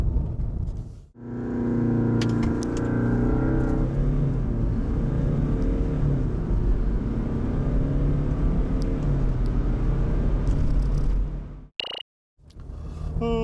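A 2021 Land Rover Defender pulls away from a standstill at full throttle, its engine climbing loud and steady in pitch for about ten seconds. The roar then cuts off abruptly, followed by a brief click.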